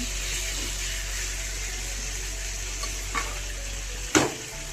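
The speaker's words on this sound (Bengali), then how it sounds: "এবার ভালো করে কষিয়ে নেব" Chicken gizzard masala is stir-fried in a pan, making a steady, even frying hiss that runs throughout. A couple of faint scrapes come midway and one sharper utensil knock near the end, with no talking.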